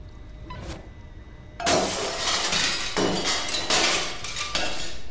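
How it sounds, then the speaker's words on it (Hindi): Glass breaking in the video game Stray, a sharp loud shatter followed by several more crashing, tinkling bursts of falling shards over a few seconds, with no talking. "क्या करेगा, शीशा तोड़ेगा।"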